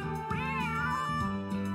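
A single drawn-out cat meow from the video game Saku Saku, clear and close, with a rising then falling tone and a short trailing tail over a faint background tone.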